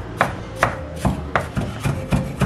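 A knife chops onion finely on a board, with about seven sharp, evenly spaced cuts ringing out close and clear.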